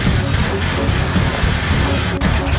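A 2006 Suzuki Aerio SX hatchback with all-wheel drive drives along, its steady low engine and road rumble heard up close and continuous, with no talk.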